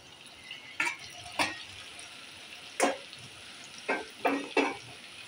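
Sitabhog sweet dough, a traditional Bengali sweet, fries in oil over a low flame with a quiet continuous sizzle, broken by about six short, sharper splatter bursts as pieces drop in and are stirred.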